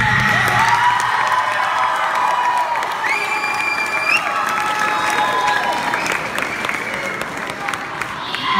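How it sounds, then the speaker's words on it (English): A high school ho'ike hula performance audience gives a round of applause with cheers and whoops, a sustained crowd roar mixed with high shouts and a voice over the top. "let's give them a round of applause"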